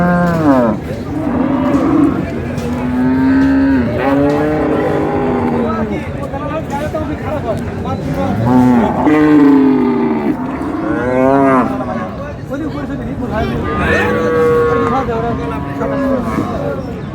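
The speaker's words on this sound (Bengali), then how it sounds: "গাভী বাছুর, বেশ সুন্দর কোয়ালিটির।" Cows and calves at a cattle market in Ambari, Dinajpur, let out loud, drawn-out moos again and again at close range, while people talk in the background.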